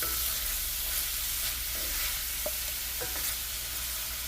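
Corn sizzles steadily in vegetable oil in a hot skillet for corn chowder, a continuous crackling fry with a few faint clinks of stirring and no talk.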